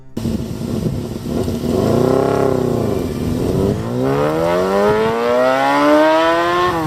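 A Honda CBR250RR 250cc four-cylinder engine screams as it revs up, dips, then climbs steeply again toward 19,000 RPM in a shrill, sustained wail, loud and close.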